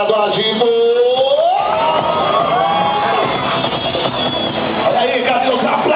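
Crowd cheering and shouting at a motorcycle stunt show featuring a CBR 600 RR, a loud, sustained roar of voices with whoops and a rising, swooping announcer's voice over it.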